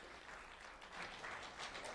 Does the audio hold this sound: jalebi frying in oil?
no